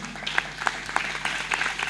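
A church congregation at a Bible seminar gives a loud round of applause, a dense, steady wash of many hands clapping together for about two seconds with no talk over it.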